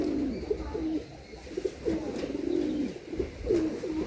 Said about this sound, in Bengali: এই একটা টিপলার পায়রা দেখুন